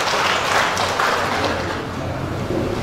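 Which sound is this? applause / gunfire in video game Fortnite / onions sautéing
applause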